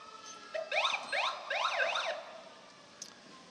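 A 1957 Plymouth Belvedere police car in a downtown San Mateo parade sounds short rising and falling wails from its siren, about a second and a half of bursts, moderately near, with no talk.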